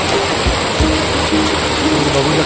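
Heavy rain pours down at Rajkot Fort in Malvan as a steady, loud broadband wash that lasts throughout, with faint voices underneath.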